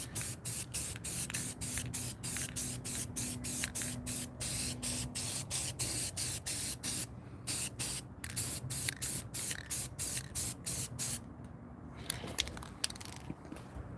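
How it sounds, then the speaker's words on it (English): Someone is spray painting a 5.3 LS engine block with an aerosol can in quick, repeated hissing bursts separated by short pauses, very close and steady, with a faint hum underneath and no speech. "Getting overspray all over the camera, but it's all right."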